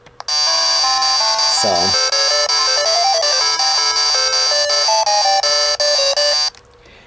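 Adventure Island plays on a Chinese Famicom clone with badly distorted game audio, a loud, harsh, buzzing chiptune tone with shifting notes and a brief swooping effect, held steady for several seconds before cutting off.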